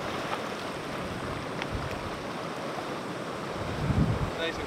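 Ocean waves at a seaside hot spring on Yakushima, a steady outdoor wash with wind noise, a louder surge near the end and a person speaking faintly.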